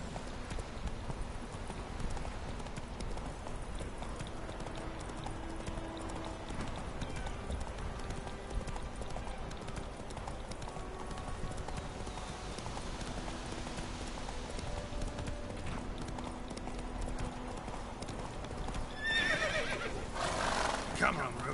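Roach, a horse in The Witcher 3, gallops with a steady clip-clop of hooves across the whole span and lets out a neigh near the end, over game music and with a voice talking.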